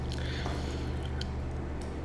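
Cooked rice is tipped into a pan of soy-sauce-seasoned stir-fry for fried rice and mixed, producing soft, wet squishing and scraping with a low steady background hum, close by and without speech.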